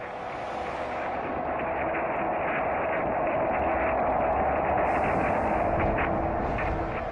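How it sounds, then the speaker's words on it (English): Sonified solar oscillations recorded by the orbiting SOHO satellite come through as a steady, dense, loud rumbling roar that holds constant for about seven seconds, with no talking over it. "this is the sound of the sun."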